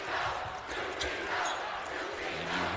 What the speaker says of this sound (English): you hear the crowd from Ishpeming as one screaming, UP power